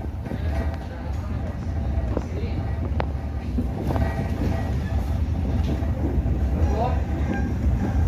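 A train rolls through a curve near Cibatu, Indonesia, a steady moderate rumble with faint wheel clatter, heard from trackside under people talking.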